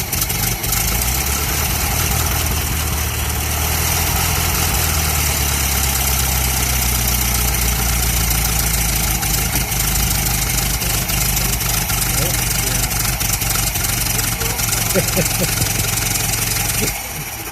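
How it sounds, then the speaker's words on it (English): Ford Model T engine revved and running rich, a loud continuous rumbling drone with a slowly shifting low pitch, heard close throughout with faint voices underneath. "I'm going to rev it up and run it a little rich here for a minute."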